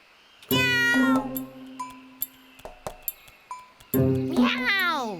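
A cartoon cat in a Tamil kids' comedy set in a forest gives two long, drawn-out, wavering meows, clearly a voice actor imitating a cat. Between them come scattered light clinks and taps.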